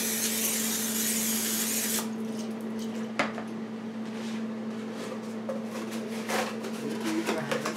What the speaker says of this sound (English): But I'm just going to spray butter in here.